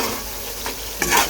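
Meat fries in a pan with cumin, salt, red paprika and chopped coriander for Uyghur lagman. A steady close sizzle is broken by a couple of quick stirring scrapes, with no talk.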